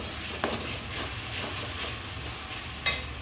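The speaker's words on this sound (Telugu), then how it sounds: "ఎక్కువసేపు వేగనిద్దాం టమాటా గ్రేవీ" Tomato gravy for okra curry frying in a pan, a steady close sizzle with occasional stirring scrapes and a couple of sharper clinks, no talking.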